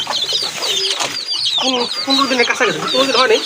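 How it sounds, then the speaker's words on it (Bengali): A large native hen with about fifteen-day-old chicks clucks close by in a rapid, uneven series, mixed with high chirps. "আর মুরগিটা কিন্তু অনেক বড় সাইজের"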